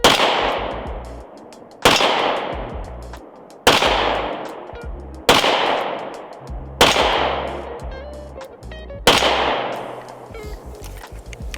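Six loud, sharp pistol shots from a PSA Rock 5.7 fired at a target on a range, spaced about two seconds apart, each trailing off with echo before the next.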